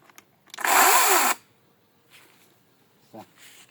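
A Worcraft CGC S40LiBA cordless battery saw runs in one loud, steady burst of roughly a second, then cuts off, leaving near quiet with a few faint knocks.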